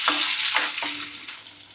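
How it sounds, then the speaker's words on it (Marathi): Finely chopped onion sizzling in hot oil tempering for black mutton, a bright close hiss with a few stirring scrapes repeating as it is sautéed. "चांगला परतून घ्यायचं"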